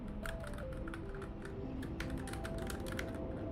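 Keys clatter on a computer keyboard during a Portal 2 mod session, a quick uneven run of clicks and taps over a background of soft musical game tones, fairly quiet and close, with no talking.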